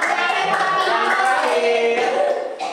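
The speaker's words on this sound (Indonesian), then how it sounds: "Siapa boleh kasih tepuk tangan dong?" A school class claps hands together in a classroom, a brief burst of mixed clapping with children's voices overlapping.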